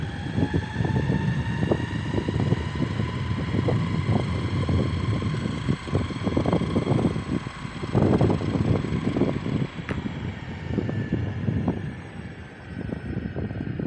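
An EXWAY Atlas Pro 4WD electric skateboard accelerates on pavement, its motor whine rising steadily over loud wind buffeting and road rumble.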